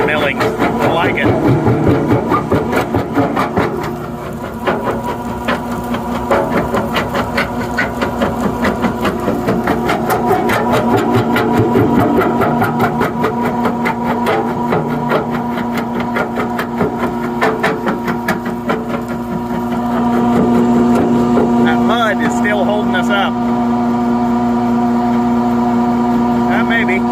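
A New Holland skid steer engine drives a jaw crusher working on concrete and asphalt millings, its diesel drone and tonal hum steady throughout, with crushing clatter and rattles coming through and a louder surge late on.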